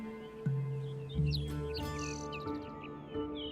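Small birds chirp and tweet in a sagebrush desert, a few short calls close by and clear over a quiet background.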